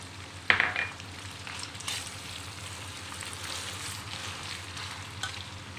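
Garlic dropped into hot olive oil for aglio olio spaghetti, a sharp sizzle burst at the start settling into a steady, soft frying crackle with a faint stir near the end.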